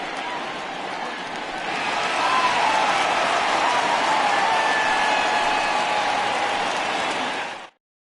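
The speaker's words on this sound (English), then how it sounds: "this home crowd likely to give him a standing O as he departs with the shutout in check" A home baseball crowd gives a sustained standing ovation as a pitcher leaves with a shutout, with broad applause and cheering swelling after two seconds and holding steady until it cuts off.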